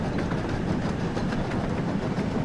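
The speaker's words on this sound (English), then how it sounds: "let me just put this train down to a slowish speed" A video game train runs on rails at a slowish speed while climbing uphill, a steady loud rumble with rhythmic clickety-clack, no talk.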